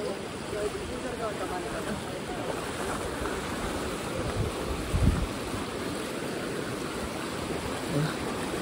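Kumbhavade waterfall in the monsoon-soaked Konkan hills roars with a steady broadband rush of flowing water, continuous and enveloping, with no clear voices over it.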